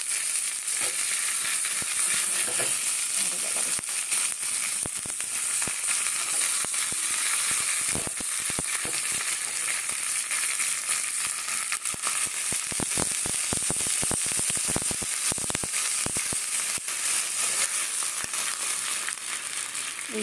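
Spiced tempering sizzles and crackles steadily in hot oil, a loud, unbroken hiss close by, spotted with sharper pops and spatters, no talking heard.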